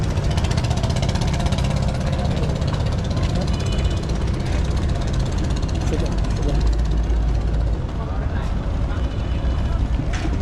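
Motorized trawler boat engine running at a busy river ghat at Sadarghat, a loud steady low drone with wind and crowd noise throughout, under people talking.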